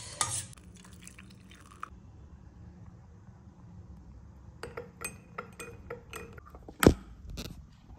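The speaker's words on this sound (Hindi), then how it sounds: "इसको डालेंगे हम पानी में, लेमन करते हैं मिक्स।" A lemon stirred into water in a glass while making ginger lemon honey tea, giving scattered light clinks, taps and drips, with one sharper clink near the end.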